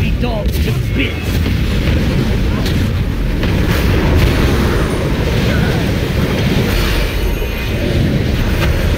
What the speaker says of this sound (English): Cannon! Blast these scurvy dogs to bits!